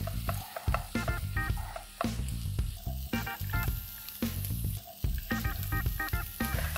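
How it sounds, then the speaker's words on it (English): Two chopped onions fry in a pan after ginger and garlic, giving a loud continuous sizzle with repeated scraping stirs and clatter at a close, busy rhythm, with no talking. "I'm going to add 2 chopped onion"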